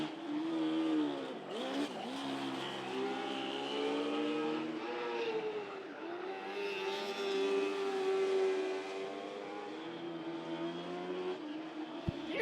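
1200 mini sprint race car engines at a July 4 racing event, one motor rough and one smooth, roar steadily and loud throughout, with shifting pitch as cars run laps on the track.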